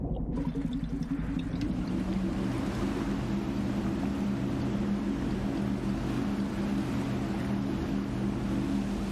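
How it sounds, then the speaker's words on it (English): Rescue boat motors in Trailmakers hum in a steady, continuous drone, with a low throbbing engine tone and a watery wash underneath, loud and unbroken. "So let's try the rescue boat now. Okay, so yeah, never driven this before. I really do like the sound of these motors."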